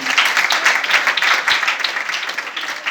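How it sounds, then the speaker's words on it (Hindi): An audience gives loud, sustained applause for a child at a church gathering, a dense wash of many hands clapping steadily for about three seconds with no talk over it. "बच्चे के लिए जोरदार तालियां"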